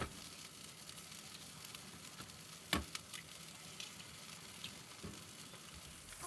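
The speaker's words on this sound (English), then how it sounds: "crack 2 eggs into your pan" Two eggs fry in a pan beside pushed-aside fried rice, giving a soft, steady sizzle with a few faint pops and clicks, quiet and close with no talking.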